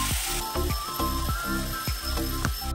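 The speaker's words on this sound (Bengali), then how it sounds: "তেল গরম হয়ে গেছে, হলুদ দিয়ে দিলাম" Turmeric and spices hit hot oil in a wok after peanuts were fried, a steady bright sizzle with a rhythmic thumping pulse running beneath it.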